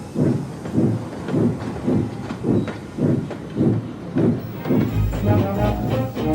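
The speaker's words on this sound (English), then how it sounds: "With the children safely on board, Gordon pulled slowly out of the station" A steam engine train pulls slowly out of a station, chuffing in a steady, even rhythm of loud low puffs with hiss, then a rising rumble near the end.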